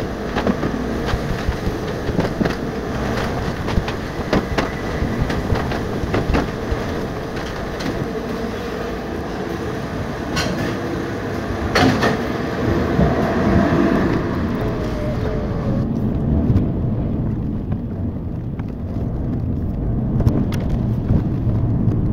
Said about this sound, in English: I'm on the Channel Tunnel, halfway going across to France.